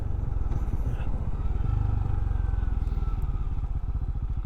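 Benelli Imperiale 400 retro-style motorcycle riding along, a steady low engine thump with a rapid pulsing beat and faint road and wind noise, heard from the rider's position.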